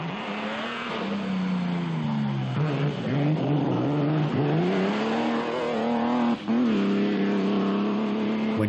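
An ERA R4D race car climbs the Rest and Be Thankful hill course in Scotland, its engine a loud continuous howl that rises and falls through gear changes, with one brief break in the sound.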